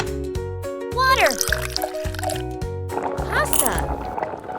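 Water poured into a small pan for a mini Korean braised mackerel dish, a short trickle and splash set against a plucked background melody, with a voice speaking briefly.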